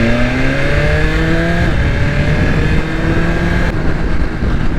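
A BMW S1000RR motorcycle engine drones loud and close, its steady roar climbing in pitch as it pulls through the revs, with no voices over it.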